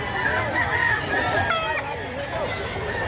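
Stag fighting cocks and roosters at a Saturday poultry market crow and cluck in overlapping, drawn-out calls, moderately loud and close, with voices talking in the background throughout.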